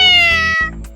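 A cartoon cat gives a single loud, clear meow, a drawn-out tonal cry lasting under a second that fades at the end.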